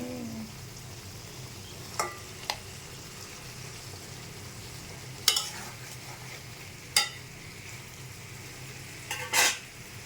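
Rohu fish pieces fry with spices in a pan, a faint low sizzle under a few sharp clinks and scrapes of stirring.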